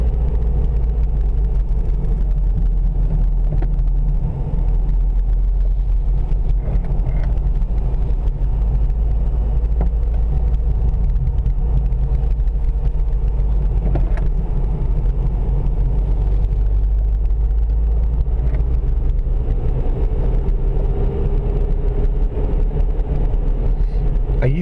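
A car drives along a steep, snow-covered mountain road in winter near Little Switzerland, North Carolina, its engine and tyre rumble steady and close throughout, with no speech.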